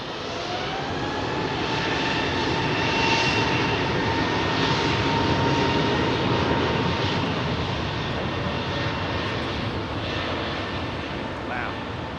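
An airliner's engines spool up at London Heathrow Airport, a loud sustained whine and roar swelling steadily with rising tones. People talk faintly beneath it.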